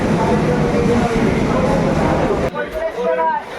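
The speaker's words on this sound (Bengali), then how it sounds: "শিয়ালদা স্টেশন ছেড়ে আমাদের ট্রেন আস্তে আস্তে এই 9 নম্বর প্ল্যাটফর্ম থেকে বেরিয়ে যাচ্ছে।" Train pulling out of platform 9 at Sealdah station, a loud continuous rumble and rattle of the carriages heard from on board, easing slightly near the end.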